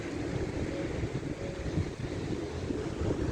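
Strong steady wind buffets the microphone at a beach, a constant rough roar with faint surf beneath, no voices.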